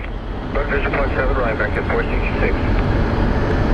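A Delta Connection regional airliner at Phoenix Sky Harbor airport, its steady jet engine roar loud and continuous throughout, with a voice talking over it.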